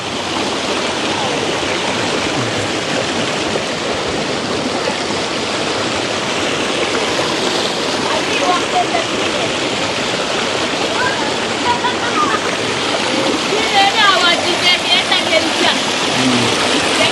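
Loud, steady rush of running water as cranberries are washed, continuous and close throughout, with voices talking faintly underneath.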